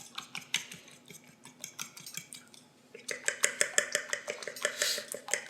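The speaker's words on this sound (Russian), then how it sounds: "И просто взбиваем сначала их здесь." Eggs with a pinch of salt beaten in a bowl for chak-chak dough, a fork or whisk clinking rapidly against the side, softer at first and then faster, louder and more even, with no talking.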